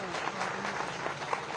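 A crowd claps at a large political rally in Bina, Madhya Pradesh, a dense, continuous wash of applause from many people, heard somewhat distant and even in level.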